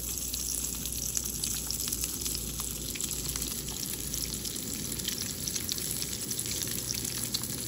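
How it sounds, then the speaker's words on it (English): Steady crackling sizzle of pork belly with Old Bay seasoning frying in a pan, close and continuous, with no voices. "Sizzle of the pan."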